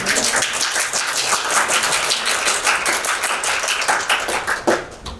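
Audience applause at a presentation on sex education in Vietnam, with many people clapping steadily and densely for several seconds, loud and close, with no talk over it.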